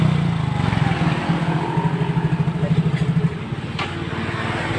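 A Yamaha Mio J scooter engine idles and revs with a steady pulsing low throb, close and fairly loud, smoking like a two-stroke; a few brief sharp clicks cut in near the middle.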